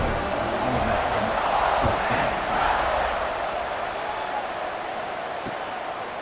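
Stadium crowd in College Football 26 during a South Carolina versus Ole Miss game, a broad continuous roar of cheering that swells around the middle and holds steady throughout, dense and fairly loud.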